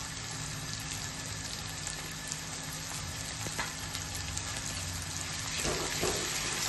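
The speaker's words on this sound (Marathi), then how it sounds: "आपला हिरवा मसाला ज्याच्यामध्ये आलं, लसूण, मिरची, कोथिंबीर आपण घातलं होतं, तो मसाला देखील ह्या कांद्यामध्ये परतून घ्यायचा आहे" Green masala of ginger, garlic, chili and coriander sizzles while being sautéed in onions for a cabbage and prawn dish, a steady, even frying hiss with no talk.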